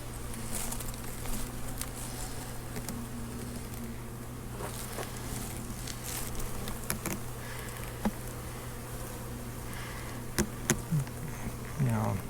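Honeybees hum inside an opened hive during a September inspection, a soft steady drone running throughout, broken by occasional clicks and knocks of handling, with low murmurs of talk in places.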